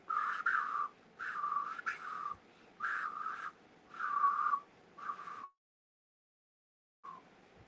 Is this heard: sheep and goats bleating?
no